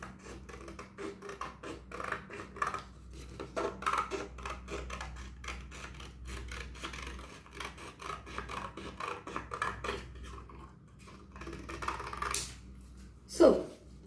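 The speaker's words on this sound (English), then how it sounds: "Now take your scissor and cut along the curved edge." Scissors snip and rasp through paper along a curved edge while a cap is being made, a steady run of soft close-up cuts and rustles, with a sharper crunch near the end.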